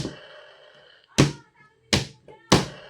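A 1993 Kenner Jurassic Park electronic Tyrannosaurus rex toy makes hollow plastic thumps, three distinct stomps spaced about a second apart, each with a brief electronic roar-like tail, close up.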